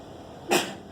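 A single sharp sneeze bursts out in a university math lecture room, one loud, brief blast set against quiet room hum.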